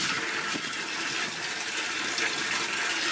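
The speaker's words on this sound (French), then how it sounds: "Là, c'est l'eau que je suis en train de transvider." Submersible clear-water pump (Parkside PTPK 400 W, 10,000 l/h) transferring water between tanks, a steady broadband rushing gush that stays constant and loud throughout with no pauses.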